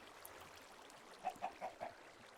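Four quick, soft clucks from chickens in Minecraft, floating in a coop, come in a short run, faint over a steady low hiss.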